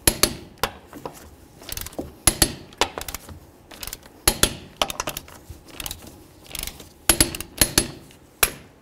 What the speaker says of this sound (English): let's torque these to 100